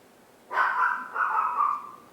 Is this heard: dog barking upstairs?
yes